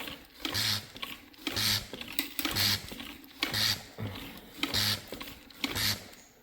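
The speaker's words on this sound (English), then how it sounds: "Got this machine, you pump it, and it'll suck out the tranny oil." A hand pump sucks black transmission oil out of a Ford Ranger through a small tube, giving six rhythmic, evenly spaced strokes of whooshing suction with a low mechanical thump on each pull, close and fairly loud.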